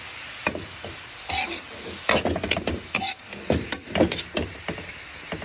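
Bean sprouts stir-fried in a pan for ginisang toge, irregular bursts of sizzling and scraping as a utensil tosses them, close and crisp with a faint steady hiss between strokes.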